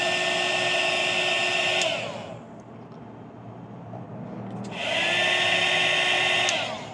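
A high-pitched heat gun blowing hot air whines steadily for a couple of seconds, cuts out, then starts again at the same pitch after a short pause.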